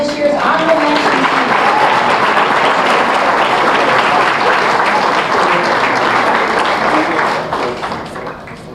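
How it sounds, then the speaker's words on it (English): Sustained loud applause from an audience at a high school basketball banquet, dense clapping filling the room for several seconds before tapering off near the end. "Let's have one more big round of applause for this year's honorable mention team."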